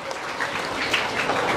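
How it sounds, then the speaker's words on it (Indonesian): Applause for student council candidates at a school election debate: a dense, even burst of clapping from the audience that holds steady throughout. "Tepuk tangan untuk semuanya"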